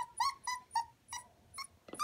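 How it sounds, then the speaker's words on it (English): Chocolate Havanese puppies whimper and yip in a quick series of six or seven short, high cries, close up and fairly loud, with brief pauses between them. "it's time to put the puppies to bed"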